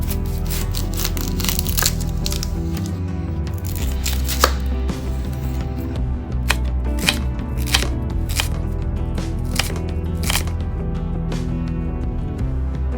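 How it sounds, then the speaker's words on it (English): A knife chopping onion on a cutting board, with a quick, steady run of sharp close knocks that continues throughout and has no talking. "Chop onion,"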